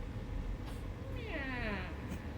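A cat meows with a rising then falling, drawn-out call, clear over a steady low background hum.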